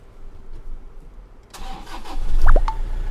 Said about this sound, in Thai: นี่เลยนะคะเครื่องสตาร์ทแน่นๆอย่างนี้เลยนะคะ